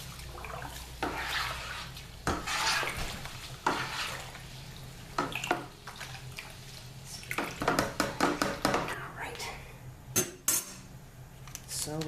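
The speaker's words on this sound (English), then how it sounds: "Let's stir that in there." Oak is stirred into homebrew wine, a spoon scraping and clinking against the vessel in irregular bursts. Sloshing and knocks build toward the end, close and fairly loud, with no speech.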